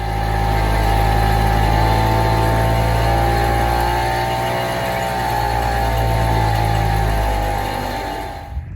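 A small gasoline engine on a Bayfield 23 sailboat, running smoothly after a new fuel hose from the gas tank to the carburetor, hums at a loud, steady idle throughout with a constant low drone and slight tonal waver.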